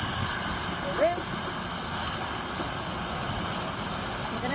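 Boat parts being rinsed in a bucket of water, a steady splashing, sloshing wash that runs unbroken for several seconds, fairly loud and close, with no one speaking over it.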